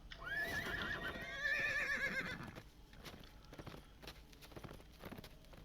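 A horse whinnies loudly, then hooves clop in a quick rhythm as it moves off, with game-like clarity.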